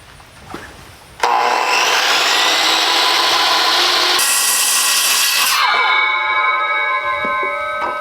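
Saw cutting through a timber frame barn post: a loud, steady, close cutting roar runs for about four seconds, rises brighter briefly, then stops, leaving a ringing tail and quiet handling.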